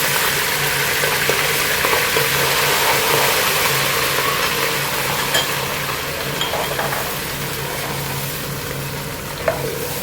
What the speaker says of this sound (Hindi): साथ ही इसमें मैं लहसुन अदरक का पेस्ट ऐड कर दूंगी।